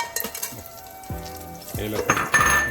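Oil sizzles and crackles in a pan, with metal utensils clinking and stirring against it.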